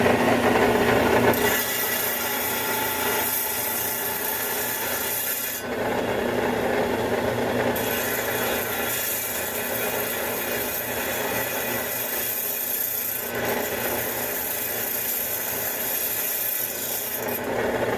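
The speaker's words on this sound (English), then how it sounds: "I can tell by the speed of the blade how fast it's going through the host rock material" A saw blade cutting through a large Ethiopian opal and its host rock, a steady close grinding rasp that runs the whole time with small shifts in tone and no talk.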